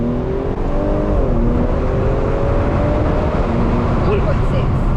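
Mercedes C43 AMG launching hard with wheel spin: a loud, close engine roar climbs steadily in pitch through sustained hard acceleration, over a dense rush of road and wind noise.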